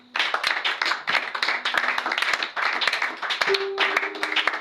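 A church congregation claps steadily and loudly in worship to acclaim the Lord, a dense continuous wall of hand claps with a few voices and a sustained tone audible beneath.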